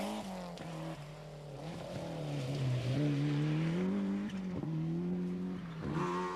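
A David Greer-prepared Ford Escort rally car at the 1994 Townparks Rally revs hard through its gears, its engine note rising and falling with sharp shifts, loud and fairly close.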